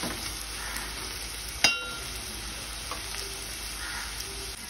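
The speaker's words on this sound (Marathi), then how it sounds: "टोमॅटो आपल्याला तेलावर परतून घ्यायचा आहे।" A tomato frying in oil gives a close, even sizzle with light stirring, and one sharp clink of a utensil on the pan rings out early.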